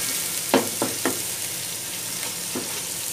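Ginger garlic paste fries with onions in a pot, giving a steady soft sizzle with a few sharp stirring clicks and scrapes, close by and with no talking.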